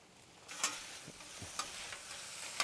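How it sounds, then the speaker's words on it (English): Tail-on red shrimp and garlic fry on a griddle in a soft, low sizzle, with a few sharp spatula scrapes and clinks standing out close up. "Shrimp don't take long, so just get them mixed around."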